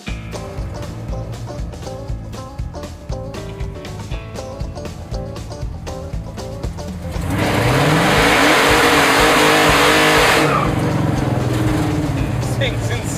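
A 1968 Dodge Charger fitted with a 707-horsepower Hellcat engine idles with a choppy burble, then roars hard into loud sustained acceleration for several seconds before easing back; people talk over the earlier part.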